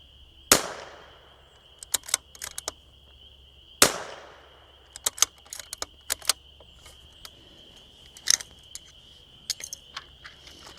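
A precision rifle fires at an egg target outdoors: two loud, sharp cracks a few seconds apart, each with a trailing echo, followed by scattered lighter clicks and rattles.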